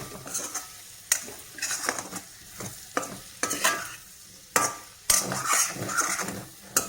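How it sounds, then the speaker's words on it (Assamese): A spoon stirs turmeric and coriander powder into potatoes and peas in a frying pan, producing repeated scraping strokes and clinks over a soft sizzle, close and fairly loud, with no voices. "হালধি আৰু ধনিয়া দিলোঁ একেলগে দি এয়া লৰাই আছোঁ।"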